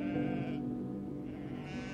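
Sheep bleat amid a pastoral flock scene in an Indonesian audio drama, a steady layered bleating that runs near and fairly loud for two seconds with no talk over it.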